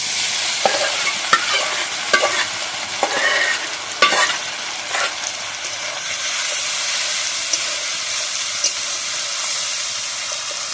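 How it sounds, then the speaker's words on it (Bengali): Grated onion for an egg curry frying in a pan, a constant loud sizzle broken by scraping and clattering as the onion is stirred, then settling into steady hissing. "দিয়ে আমি আবার ভালোভাবে ভেজে নেবো"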